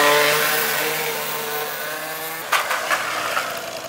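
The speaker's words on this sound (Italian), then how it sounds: "Maso, il mio motorino!" A small motor scooter engine drones loudly and then revs in a few quick bursts, close by.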